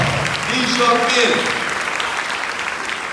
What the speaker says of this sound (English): Please give yourselves another round of applause to support these young men